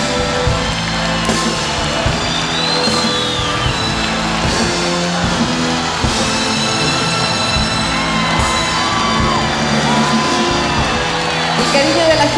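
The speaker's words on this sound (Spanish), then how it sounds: "Se nos fue Rafael con esa ovación maravillosa" A large outdoor festival audience at the Quinta Vergara amphitheatre in Viña del Mar gives a loud, sustained ovation, with dense cheering, whoops and shouts filling the whole stretch.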